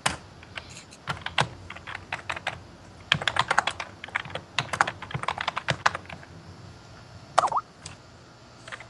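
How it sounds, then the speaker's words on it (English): Someone types on a computer keyboard in a quiet room, with irregular bursts of crisp, close key clicks and short pauses between runs. "I see you're typing."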